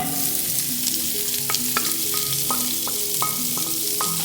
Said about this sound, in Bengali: এবার এতে দিয়ে দেবো কেটে রাখা পেঁয়াজ